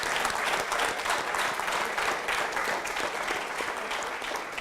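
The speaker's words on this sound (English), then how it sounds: "A big round of applause for them." A crowd at a 2018 marketing conclave gives a big round of applause, dense and sustained clapping filling the room at an even level for several seconds.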